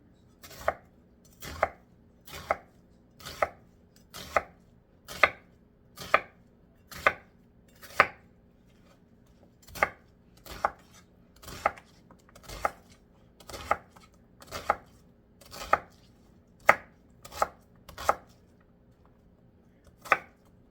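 A knife slices a white onion on a cutting board for pork sisig, about twenty steady crisp chops in an even rhythm, close and distinct against a quiet background.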